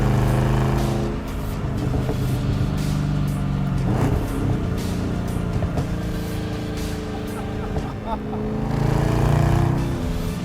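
A factory 580 hp 6.2-liter supercharged V8 Chevrolet Camaro ZL1 with a fully stripped, undeadened interior drives along, its steady engine drone and loud road roar filling the cabin continuously throughout.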